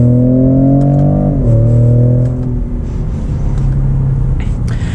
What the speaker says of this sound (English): when you accelerate, the intake noise on it, I feel like it sounds pretty good